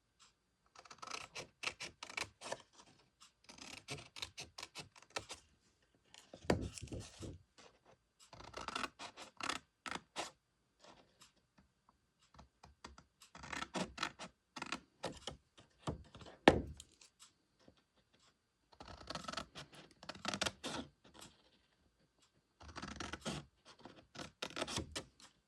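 Scissors cut score marks out of a paper gift box, making quiet, close snipping and crisp scraping in irregular bursts separated by silent pauses.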